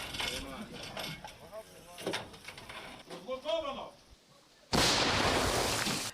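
Someone speaks briefly in Ukrainian, then after a short lull a self-propelled howitzer fires a single loud, sharp blast that booms and rumbles away.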